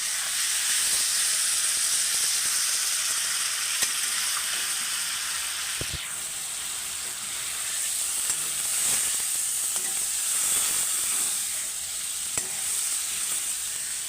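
Chili powder sizzling in a hot pan of tomato for egg curry, a continuous close hiss and crackle with occasional stirring scrapes, steady throughout with no voices.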